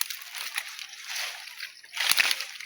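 Water gushes and splashes steadily with sloshing surges, getting louder near the end, fairly close by.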